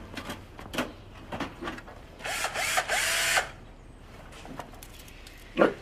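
A handheld power tool, a drill, whirs in a short loud burst of about a second, with scattered clicks and handling knocks before and after in a quiet room.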